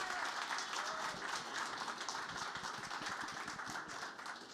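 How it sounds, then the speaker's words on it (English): Audience applause after a conference talk fills the room, a steady dense wash of clapping heard at moderate distance and sustained throughout. "Can we please give him a round of applause?"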